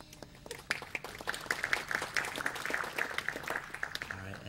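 Church congregation applauding during a worship service, a dense run of hand claps that starts after a brief lull and holds steady at moderate level for several seconds.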